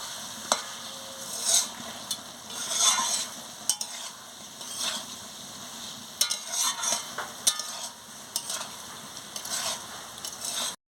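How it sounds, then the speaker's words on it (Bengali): Vegetables with coriander leaves being sautéed in a pan for a turnip, potato and plantain curry, with a steady sizzle and repeated scraping and stirring strokes, close and moderately loud, with no talking. "ধনে পাতা দিয়ে ভালো করে কষিয়ে নিচ্ছি আনাজের সঙ্গে"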